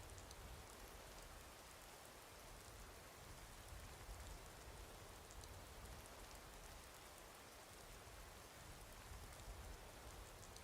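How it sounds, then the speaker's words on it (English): Steady rain in the video game The Elder Scrolls V: Skyrim falls in a continuous hiss of fine drops, very faint and uniform throughout, with no voices or other sounds. "I can hear it raining."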